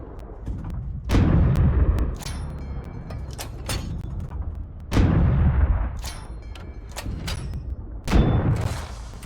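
The M3 Lee tank's big gun fires in the Steel Aces video game: three heavy, loud booms with deep rumbling tails, spaced a few seconds apart, with sharper mechanical clicks between shots.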